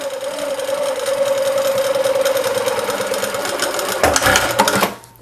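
A sewing machine stitches a small fabric phone pouch, humming steadily and close for about four seconds, then rattling louder near the end before it stops abruptly.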